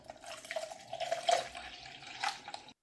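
Fresh water poured into a G-Fuel cup, a light splashing, trickling stream running steadily for a couple of seconds with a few brighter splashy swells, close and moderately quiet, no voices.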